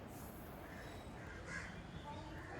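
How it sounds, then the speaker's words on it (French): Crows cawing around Salem railway station, calling a few times at a distance over steady outdoor background noise. "c'est le comportement étrange des corbeaux, une attitude désobligeante. Bavarde, épiant nos faits et gestes comme ici."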